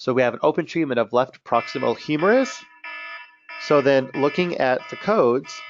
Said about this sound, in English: sorry, that was my alarm there.